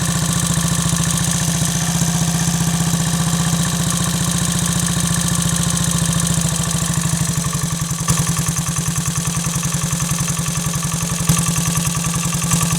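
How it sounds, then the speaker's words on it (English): A Triumph Tiger Cub (Bantam Cub) motorcycle engine ticks over fast at idle, a steady, close, rapid mechanical putter with a light clatter that slows and roughens slightly toward the end. "Now it'll tick over fast like that, but if I try and wind the tick over down, it'll probably stall."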